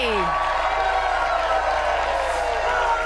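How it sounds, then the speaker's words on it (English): Big Brother UK studio crowd on double eviction night cheering and clapping in a continuous roar of applause and whoops, loud and steady for a few seconds, with voices mixed into the noise. "We have a crowd, don't we?"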